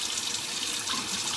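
Water runs steadily from a tap into a felt fedora body set on a hat block, soaking the felt, with a continuous hiss and splash at close range and no talk.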